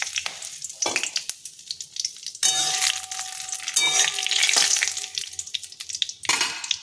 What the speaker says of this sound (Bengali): তো তেল গরম হয়ে গেছে, একটু জিরে ফোড়ন দিয়ে দিলাম তেলেতে, আর একটু গোটা গরম মশলা দিলাম